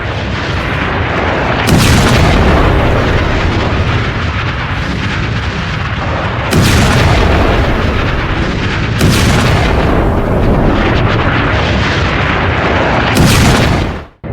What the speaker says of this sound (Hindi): जब ये रिहायशी इलाकों में मिसाइलें गिरती हैं, रॉकेट गिरते हैं